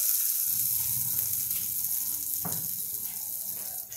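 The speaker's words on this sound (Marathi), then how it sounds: "आणि आता ही फोडणी आपण याच्यावर टाकून देऊ" A hot tempering of cumin and asafoetida hits the food with a continuous, close sizzling hiss that stays steady throughout and fades slightly at the end.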